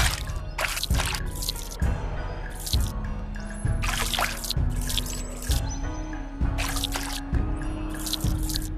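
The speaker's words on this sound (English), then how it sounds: "Place 5 scoops of water in the wok." In the VR cooking game Lost Recipes, water is scooped and poured into a wok, making a run of splashy watery bursts at roughly one-second intervals over a steady low background hum, with no talking.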